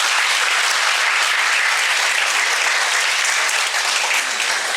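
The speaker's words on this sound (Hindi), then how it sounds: "तो एक बार उसके लिए ताली बजाइए।" An audience applauds at a motivational talk in a dense, sustained wave of clapping that stays loud and even throughout, with no voices over it.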